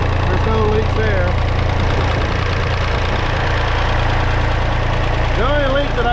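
A David Brown e26 engine runs steadily at about 1,300 RPM during fuel system venting, a close, loud continuous hum with a voice talking over it at times.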